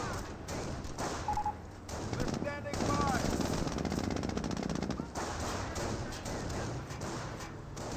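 Machine gun fire in the real-time strategy game Company of Heroes, with a Jeep coming under fire: rapid bursts of gunfire with other battle noise, a voice talking over it throughout.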